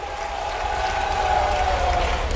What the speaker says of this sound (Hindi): जोरदार ताली बजाओ राजकुमार जी मेव के लिए